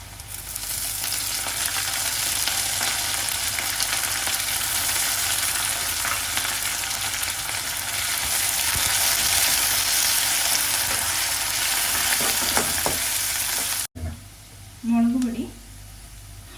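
Fresh curry leaves hit a pan of frying anchovy pickle, a loud, steady, dense sizzle that runs unbroken for most of the clip before cutting off abruptly, followed by a brief quieter stretch with a short clatter.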